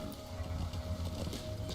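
Horse hooves clip-clopping in Metal Gear Solid V: The Phantom Pain, a steady rhythmic gallop close by over a low game rumble, with no voices.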